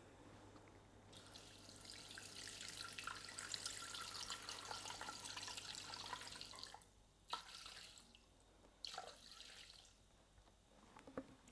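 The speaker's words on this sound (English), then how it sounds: "we're going to put 500 grams of water" Water poured into a Thermomix bowl for pumpkin and bacon risotto, a steady faint splashing stream for several seconds, then a few short trickles and drips.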